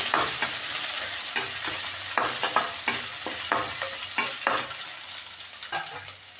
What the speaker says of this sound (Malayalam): ഇഞ്ചി ചതച്ചത് വെളുത്തുള്ളി നല്ലോണം മൂക്കട്ടെ